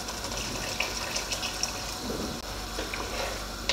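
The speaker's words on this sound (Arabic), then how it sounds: "هلا بنضيف لها شوية مي" Water pours steadily into a cooking pot holding potatoes and tomato paste, a continuous gushing fill with small splashes, close and fairly loud, with no talking.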